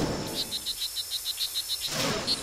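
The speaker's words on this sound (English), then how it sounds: "This forest in Costa Rica is full of frogs calling to their mates." Strawberry poison frogs call in a Costa Rican forest: a rapid, evenly spaced train of about a dozen high, clear chirps, close and distinct against a soft background hiss.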